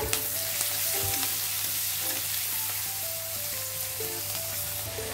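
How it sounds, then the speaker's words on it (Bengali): Chopped onion fries in a hot pan with oil, giving a loud, steady sizzle throughout. Occasional clinks and scrapes of stirring come through close by, and no one speaks. "দিয়ে পেঁয়াজটা ব্রাউন করে প্রথম ভাজবো"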